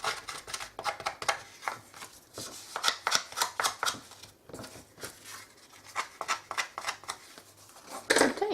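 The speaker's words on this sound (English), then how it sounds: "grab your scissors, open those up, and just go along the edges like this" Scissor blades scraped along the edges of paper card to give them a distressed look, making a run of short, close, dry scratchy strokes in an irregular rhythm with brief pauses between passes.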